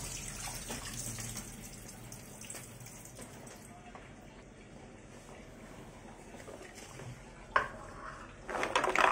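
Tap water runs steadily into a kitchen sink while raw chicken is rinsed for a final time, with soft splashing and light handling clatter; the flow is close but fairly quiet and grows louder toward the end.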